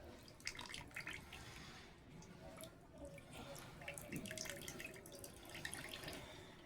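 Ganga water poured over a deity during a home puja, a soft trickle and dripping with scattered splashes, quiet and close, with a voice speaking faintly under it.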